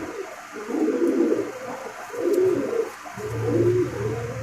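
A female Malwai pigeon coos close by in three soft, low, rolling phrases, evenly spaced, against quiet background hum.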